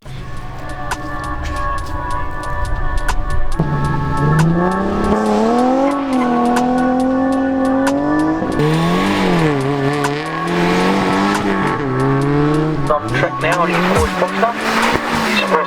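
Car pulling away at a hill climb motorsport event, engine note rising and falling through the gears with tyre noise, loud and close, a voice talking over it.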